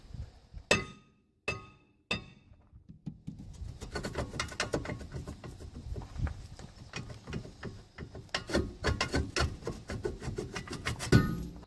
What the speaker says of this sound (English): grab a hammer, give the rotor a few taps to loosen it up so we can pull it off